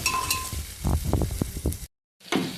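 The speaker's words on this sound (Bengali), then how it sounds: "রসুনটা একটু ভালো করে একটু ভাজা করে নেব।" Chopped garlic sizzles in hot oil in a pan, crackling with a few clinks and stirring scrapes, then cuts to brief silence before the frying resumes.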